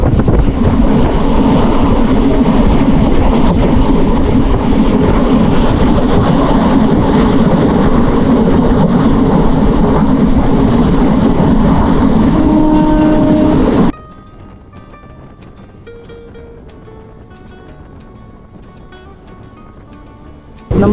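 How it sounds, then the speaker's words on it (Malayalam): A train on the Shornur–Coimbatore line runs fast with a loud, dense roar and rattle for about fourteen seconds, then cuts abruptly to a much quieter interior hum with faint tonal whines. "ട്രെയിൻ ഇപ്പോൾ നല്ല സ്പീഡിലാട്ടോ പോകുന്നത്"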